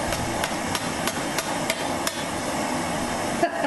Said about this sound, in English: taking it out of the forge and then shaping it with a hammer